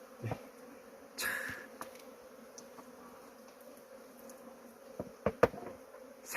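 Korean native honeybees buzz softly around a harvest of native honey, a faint steady drone with a few louder close passes and light knocks, no talking.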